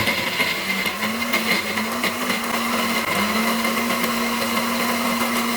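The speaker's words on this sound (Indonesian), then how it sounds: "kita akan blend bawang putih, bawang merah, cabai keriting, cabai rawit, dan tomat sampai halus" A blender purees garlic, shallots, curly red chilies, bird's eye chilies and tomatoes into a smooth balado paste, giving a loud, continuous whirring motor that shifts pitch slightly as it runs, alone without talk.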